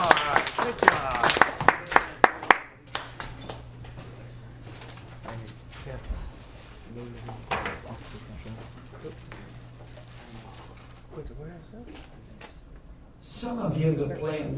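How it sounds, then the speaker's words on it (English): A small audience at a vacuum science demonstration gives a brief round of applause, with a quick run of sharp, distinct claps at the start, followed by a presenter and others talking. "A round of applause."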